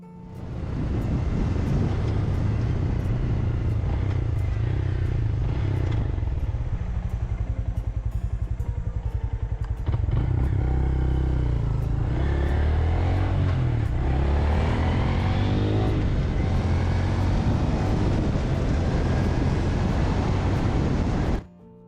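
A Honda Grom motorcycle being ridden, its small engine droning steadily with shifting pitch as it changes speed, heavily buffeted by wind noise across the microphone, continuous until a sudden stop.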